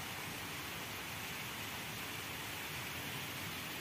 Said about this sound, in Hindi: देखो बारिश आ रही है, आपको कैमरा में दिख रहा होगा,